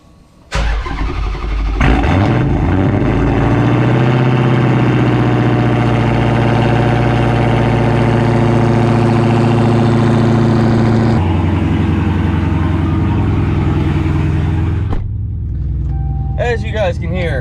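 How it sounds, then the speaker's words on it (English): A Dodge Charger Hellcat with an 860 whp, straight-piped exhaust cold starts, firing up around the one-second mark and settling into a loud, deep, rumbling idle with a harsh raw exhaust note that runs on steadily. "Speaking of that, let's go do a cold start."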